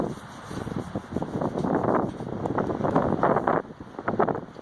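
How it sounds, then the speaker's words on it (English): Gusty wind blows across an open horse pasture after a rainy night, buffeting the microphone in loud, uneven rushes that rise and fall for several seconds, with no talk heard. "So it's pretty windy out, huh?"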